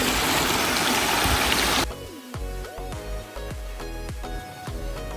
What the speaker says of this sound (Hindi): इनके अब्बू ने पानी की मोटर बंद नहीं की है, इसलिए इनका वाटर टैंक जो है बह जा रहा है।